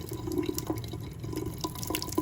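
Water streams and splashes from a tap into a sink with a metal spoon held in the falling flow, a steady close trickling and pattering with small drips and clinks throughout.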